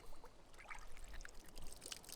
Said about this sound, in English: Look at the water come out of it.